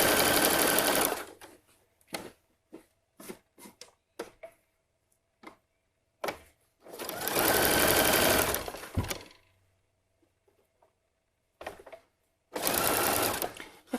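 A sewing machine stitches clear elastic onto fabric for underwear, running in several bursts of close, steady whirring with two long runs separated by short taps and pauses.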